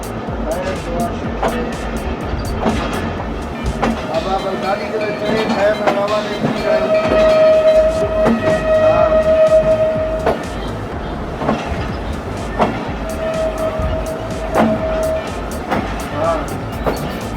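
The Bolan Mail passenger train rolls slowly out of snowy Quetta railway station in Pakistan, with a steady rumble, rhythmic wheel clacks and metallic squeals, while someone talks over it throughout.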